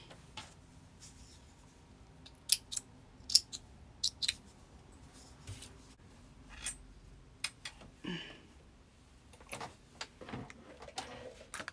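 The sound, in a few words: scissors snipping sewing threads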